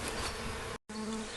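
Honey bees at an opened hive on a warm spring day make a dense, close, continuous buzzing drone, cut by a very brief gap.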